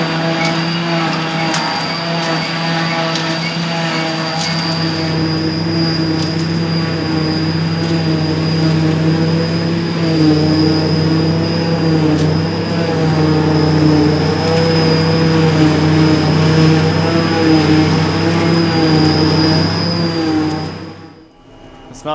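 Steady, loud drone of a tractor and JF forage harvester cutting grass, a deep engine rumble with a high whine on top, cutting out abruptly at the end.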